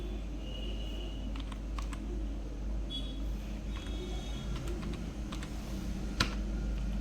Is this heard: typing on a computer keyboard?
yes